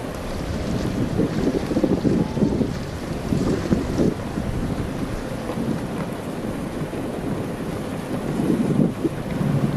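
An outrigger boat travels over open water in French Polynesia, with steady engine rumble, the rush of water and heavy wind buffeting the microphone throughout and no voices.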